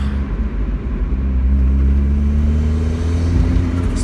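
A Mazda MX-5 engine revs steadily with a rough, raspy drone from an exhaust leak at a loose bolt, heard close and loud for about four seconds with no talking.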